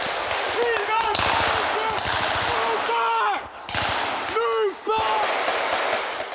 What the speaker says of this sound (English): Too many of his shots are going wide